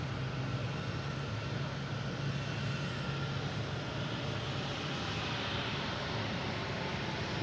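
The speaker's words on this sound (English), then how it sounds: "We have Iberia here, passing in review from Madrid," An Iberia Airbus A321neo from Madrid rolls past at Boston Logan International Airport with a continuous low engine rumble and airy hiss, steady and fairly close throughout, and no voices.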